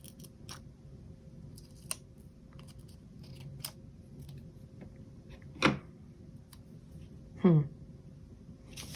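Scissors cutting apart a paper planner sticker box, two distinct crisp snips a couple of seconds apart against a quiet room with faint small rustles and taps.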